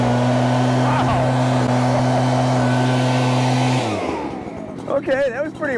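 An Echo PB-9010T backpack leaf blower roars loudly and steadily nearby while aimed at a brick, then its engine drops and winds down, leaving softer sounds and a voice at the end.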